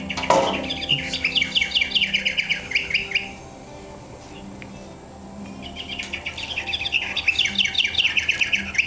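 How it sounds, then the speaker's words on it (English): Recorded bird song played from a steampunk-style lamp just after it is plugged in: rapid chirps and squawks in busy bursts, a brief quieter lull, then the chattering calls resume, fairly close and loud. "So each time you plug it up, it has a different bird."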